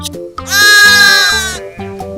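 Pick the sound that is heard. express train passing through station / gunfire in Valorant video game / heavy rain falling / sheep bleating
sheep bleating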